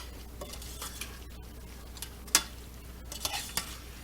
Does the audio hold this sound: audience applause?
no